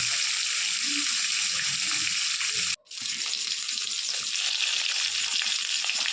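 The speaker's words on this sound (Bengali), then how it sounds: "তাই জন্য কম কম করে 2-4 পিস করে ফ্রাই করা হচ্ছে" Rohu fish pieces frying two to four at a time in a little oil in a village kitchen. A continuous sizzle runs throughout, with a brief dropout midway and faint clinks underneath.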